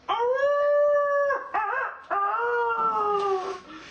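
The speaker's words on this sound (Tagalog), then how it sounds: "di kalayuan narinig ang alulong ng aso." A dog howls somewhere off in the distance in three long, wavering phrases with brief breaks between them, the drawn-out cries standing alone against quiet surroundings.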